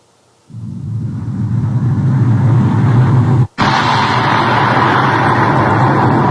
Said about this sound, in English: we're about to see some devastation. So, the missile comes down.